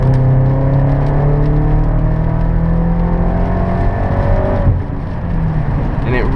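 A BMW X5 M engine roars steadily under hard acceleration, its rising tones sweeping upward before a brief dip and renewed pull.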